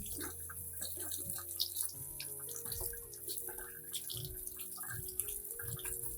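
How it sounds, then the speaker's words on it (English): Clean running water rinses the roots of a drought-stressed plant, a continuous splashing trickle with small drips and gurgles, fairly close and steady, with no voices. "I rinse the remaining plants with clean water."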